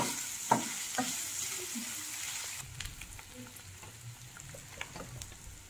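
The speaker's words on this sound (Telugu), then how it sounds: "ఒక tea spoon ginger garlic paste వేసాను. ఇది కొంచెం పచ్చివాసన పోయే వరకు కలుపుకోవాలి" A teaspoon of ginger garlic paste fries in a pan with a handful of greens for gongura curry, a soft sizzle under a few scraping stirs, the hiss dropping away partway through to a quieter bubbling crackle.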